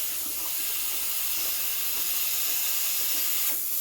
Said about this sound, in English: I'm aiming for a hissing sort of sound